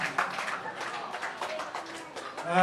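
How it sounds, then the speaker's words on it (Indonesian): An audience at a school anti-bullying talk show claps, a moderately faint, busy run of hand claps with scattered voices, swelling louder near the end. "Sekali lagi tepuk tangan dulu."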